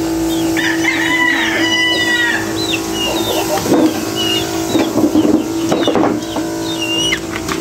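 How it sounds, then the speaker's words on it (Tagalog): Chickens clucking in a neighbour's backyard chicken coop, with scattered bird calls over a steady low hum, fairly close and continuous throughout. "Ito po yung manukan dito sa ating kapitbahay."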